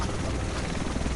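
A helicopter in the video game The Division, its dense, steady rotor and engine roar filling the scene loudly and continuously.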